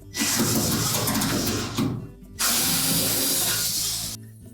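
Power driver spins out screws from the bottom of a GE washer front panel, two loud buzzing bursts of whirring and ratcheting separated by a brief pause, no talking.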